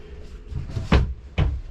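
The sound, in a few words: twisting the traveling lock on an RV closet door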